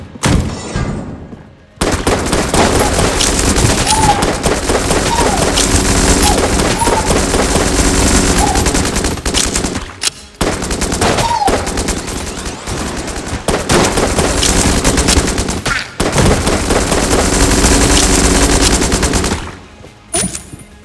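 Rapid bursts of weapon fire from the video game Enter the Gungeon, with continuous loud gunfire and multiple projectiles, broken by brief pauses around the middle and end.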